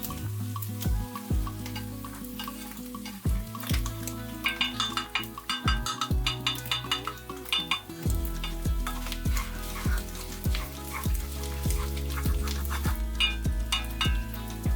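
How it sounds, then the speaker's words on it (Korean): Onions fry in a pot for French onion soup, a constant sizzle broken by repeated scraping and clacking of a spatula stirring against the pot, close and fairly quiet with no talking. "양파를 이용해서 닦아내며 타지 않게 볶아주세요"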